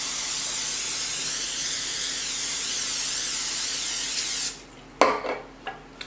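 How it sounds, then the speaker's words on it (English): An olive oil spray can sprays food in a steady, loud hiss lasting about four and a half seconds, then stops, followed by a few sharp kitchen clatters and knocks. "I'm going to spray it pretty heavily with the olive oil spray."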